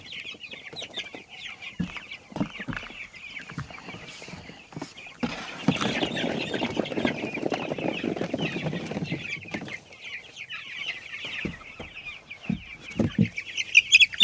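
Young chickens on a small-scale farm cluck and peep steadily, a busy flock heard close, with a louder burst of rustling and flapping in the middle.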